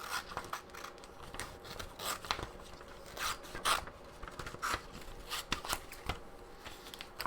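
Scissors snip repeatedly while fussy-cutting shapes out of magazine paper for a collage, giving crisp, close, irregular cuts over a soft rustle of paper with no talking.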